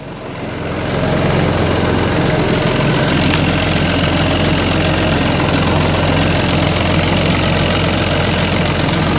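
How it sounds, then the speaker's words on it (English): A salvage 2020 Renault Clio engine, repaired with Nissan parts, runs steadily after starting. A loud, close, continuous mechanical drone with a rapid ticking rattle holds throughout. "I'll leave it now running for a while."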